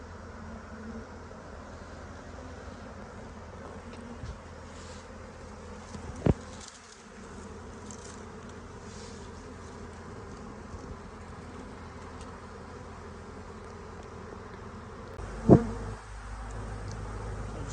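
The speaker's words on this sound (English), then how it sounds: "you can see the bees, they're fanning down there at the bottom" A dense, continuous drone of a honeybee swarm buzzing close by, steady throughout, broken by a couple of brief knocks.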